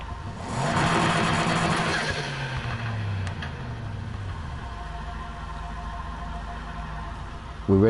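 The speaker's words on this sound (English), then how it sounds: "Love the sound of that engine, mate." A Mazda RX-7 rotary engine revs up sharply in NFS Heat, then falls back to a steady lower drone that settles toward idle, with a brief voice at the very end.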